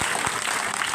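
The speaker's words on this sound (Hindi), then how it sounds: "जोरदार तालियां बजाएंगे।" Audience at a union meeting applauding, a dense, steady wash of clapping from many hands, loud and continuous through the short stretch.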